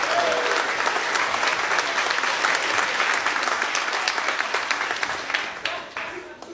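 Comedy-show audience breaking into applause, a loud, dense wash of clapping that holds steady and then fades toward the end.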